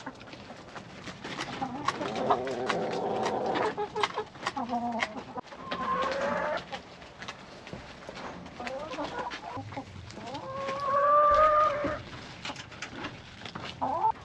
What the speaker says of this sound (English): Chickens will make a meal out of these leaves.